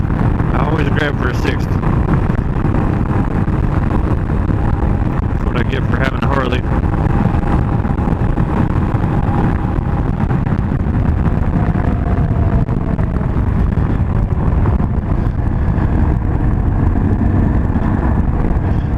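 A 1989 Honda Transalp XL600V motorcycle cruises along a road, its engine drone droning continuously under heavy wind rush against the microphone, with a rider's voice talking over it.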